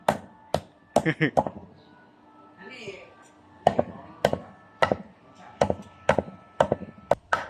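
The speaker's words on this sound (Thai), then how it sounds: "ฟังเสียงเขียงลั่นกัน" A knife chops meat for larb on a wooden cutting board, with sharp, loud, uneven strikes in quick bursts and pauses, and a brief murmur of background voices in between.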